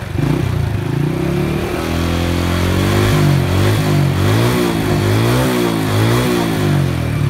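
A motorcycle engine, its charging and lighting circuit under test, revs up loudly and steadily from idle, the pitch rising and wavering through several throttle blips, close by and with no talk.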